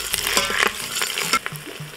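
Tomato paste being stirred into conch stew in a pot, giving a brisk sizzle with short scraping strokes and soft thuds of the spoon, close and fairly loud, with no voices.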